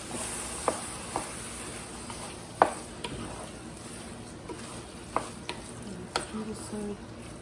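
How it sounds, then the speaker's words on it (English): Homemade dog food with mashed sweet potatoes stirred in a pot, a soft steady sizzle under scattered spoon scrapes and clinks against the pot. "Okay, and so I'm just gonna stir this up."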